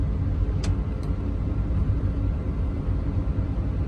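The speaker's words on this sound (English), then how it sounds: "that's the first truck to pull out" Low, steady engine rumble of a truck pulling out on a muddy work site after rain, continuous and fairly loud, with a couple of faint high squeaks.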